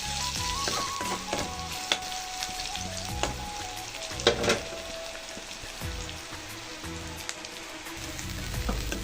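Onions fry in a pan with five-spice seeds, bay leaves and dried red chillies, giving a continuous loud crackling sizzle with occasional stirring knocks and faint music underneath.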